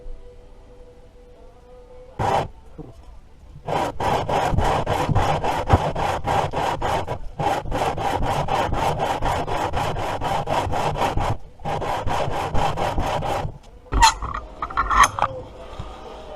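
A scraper works old gasket material off the surface of a 2005 Subaru engine during a head gasket job, making rapid, rough rhythmic strokes in long bursts with brief pauses between them, close and fairly loud.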